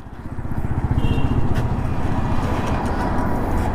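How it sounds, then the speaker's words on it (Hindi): A motorcycle engine runs close by with a loud, steady low rumble and a fast, even throb that holds throughout. "तुम्हारी गाड़ी साउंड कैसा कर रही है"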